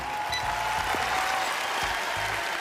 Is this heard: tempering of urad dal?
no